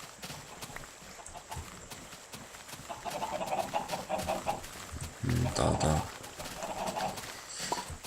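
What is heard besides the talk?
chickens in the video game Minecraft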